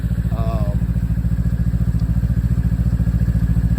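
A 2021 Ski-Doo Tundra LT 600 ACE snowmobile idles close by after warming up, its engine giving a loud, steady, rhythmic throb over barely any snow, with a brief voice-like sound over it.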